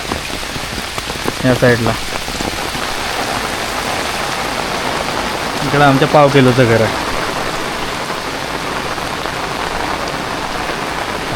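Heavy rain pours down in a Konkan village, a dense, loud, unbroken hiss of drops on surfaces, while someone speaks briefly twice over it.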